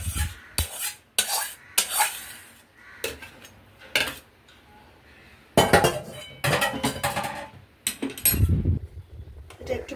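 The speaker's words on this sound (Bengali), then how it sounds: "এটা একটু ভালো করে নাড়িয়ে নেব।" A spoon stirs khichuri with ghee in a pan, giving irregular scraping and clinking strokes against the metal, interspersed with quieter pauses and a soft sizzle underneath.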